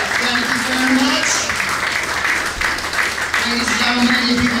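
An audience at a comedy mentalism stage show applauds the volunteers, a loud sustained wash of clapping from the crowd with a voice talking over it.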